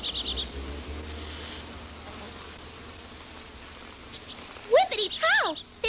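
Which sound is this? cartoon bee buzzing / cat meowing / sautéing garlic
cartoon bee buzzing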